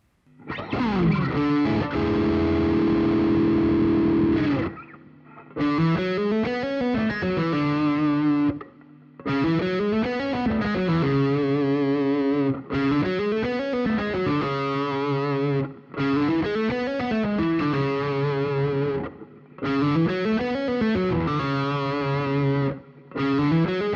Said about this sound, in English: So this is the Note-omitted legato drill